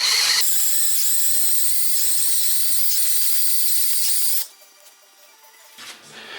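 A drill runs steadily and loudly on a Kawasaki KLX351 crankcase vent, a continuous high whine that cuts off abruptly near the end, leaving only faint background noise.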